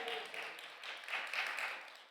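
Church congregation clapping during a healing prayer service, a soft, fairly distant patter of many hands that swells slightly and then fades.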